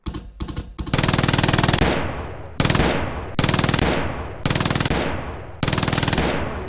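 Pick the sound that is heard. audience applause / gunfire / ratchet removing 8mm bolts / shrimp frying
gunfire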